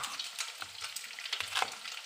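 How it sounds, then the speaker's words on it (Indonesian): Egg being stirred and fried in a wok, with a steady sizzle and scraping stirring strokes coming close and clear throughout, with no voices. "telur ni. Kita godak-godak dia."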